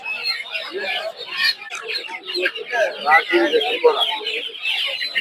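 Chickens cluck and squawk busily and close by at the Putia duck and chicken market in Narsingdi, a continuous overlapping flock chatter with a person talking over it.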